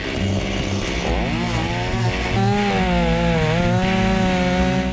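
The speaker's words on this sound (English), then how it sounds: "We're going to get to play with chainsaws." A chainsaw roars up close, its engine pitch rising and falling steadily as it bites into a tree in the woods, loud and continuous.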